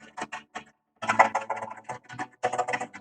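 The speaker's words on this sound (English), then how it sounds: "I love how the keyboard typing is still auto-tune, sorta." Computer keyboard keys clatter in quick irregular bursts, close and fairly loud, with an auto-tune voice effect lending the clicks a faintly pitched, tonal smear; no one speaks.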